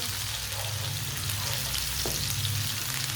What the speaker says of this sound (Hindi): सब्ज लहसुन थोड़ा सा डाल लेंगे साथ, इसे भी 1 मिनट के लिए पका लेते हैं।